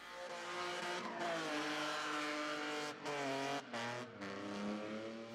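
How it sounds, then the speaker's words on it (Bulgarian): A modified BMW drift car at a drift day in Varna revs hard with a loud, strained engine wail and rising pitch, broken by a few brief throttle lifts and shifts. "Това е Божидар Василев с BMW."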